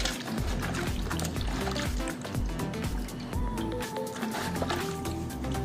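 A mobile phone back cover is dunked and swished in water, producing continuous close sloshing, gurgling and trickling splashes throughout.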